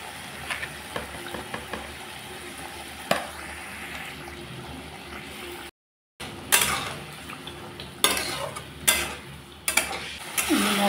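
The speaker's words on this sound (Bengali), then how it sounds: "মশলাটাকে ভালো করে কষিয়ে নিলাম সবজির সাথে।" Spices and vegetables, seasoned with turmeric powder and salt, stir-fry in oil in a pan for a fish curry. A spatula scrapes and clinks, and the food sizzles steadily. After a brief gap, louder scraping strokes come in bursts.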